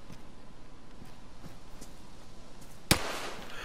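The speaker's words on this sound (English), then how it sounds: "Oh, I'm being shot at!" A single sharp gunshot bursts out near the end of a video game scene, loud and close, after a stretch of quiet low ambient rumble.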